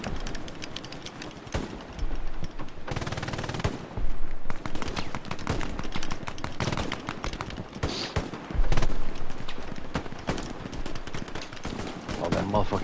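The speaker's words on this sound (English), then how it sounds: "Somebody shooting at me." Gunfire in the WWII shooter Hell Let Loose: repeated sharp shots and rapid bursts crack in irregular clusters, some near and loud, others distant, across the whole stretch.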